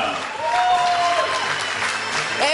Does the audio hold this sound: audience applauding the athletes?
yes